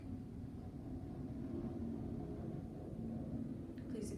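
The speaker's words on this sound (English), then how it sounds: "Please excuse the military helicopter flying outside." A military helicopter flies outside, heard as a steady low rumble indoors, muffled and continuous throughout with no talk over it.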